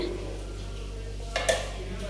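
A kadai wok is set down on a kitchen stove with one brief metallic clank near the end, over a steady low hum of background noise.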